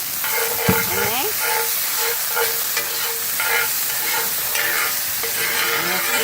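Onion and a spoonful of garlic fry in a hot pan at a campsite, a steady close sizzle with intermittent scraping and stirring, no voices over it.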